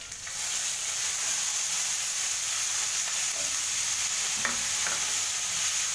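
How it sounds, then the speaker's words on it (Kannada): Onion, garlic, curry leaves and tomato fry in oil for a beetroot mixed-vegetable palya, giving a steady, loud sizzle throughout with a couple of faint stirring clicks near the end. "ಇದೆಲ್ಲ ಎಣ್ಣೆಲಿ ಬೇಯಬೇಕಲ್ಲ"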